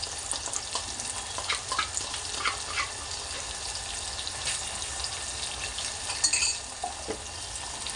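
Spice paste being sautéed in oil for a spicy village-style brinjal curry, giving a dense, steady sizzle throughout with occasional soft stirring scrapes, close and fairly loud.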